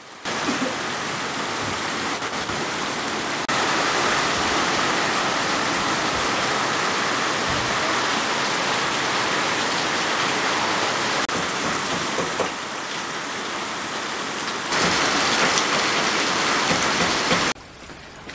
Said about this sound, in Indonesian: turun hujan di Pakuleat.